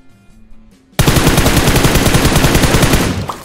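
Rapid automatic gunfire from PUBG Mobile on the Livik map bursts in after a second of quiet, a loud, dense run of shots that fades slightly at the end.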